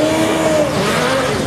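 A Formula Student combustion race car circles a skid pad, its engine note a loud, high, sustained whine that sweeps gently in pitch across a short stretch.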